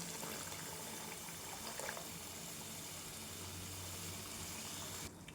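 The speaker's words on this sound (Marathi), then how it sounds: "तर मी पाणी टाकत आहे" Water poured into a cooking pot of rajma masala, a soft, continuous trickling and filling sound, faint and steady, with no talk.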